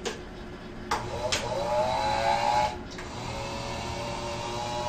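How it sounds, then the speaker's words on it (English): Motorized head of a photographic enlarger driven up and down by a switch, a steady whirring motor drone with a few clicks as it starts and stops, close and alone. "On this enlarger, it can be moved up and down through a switch on this side."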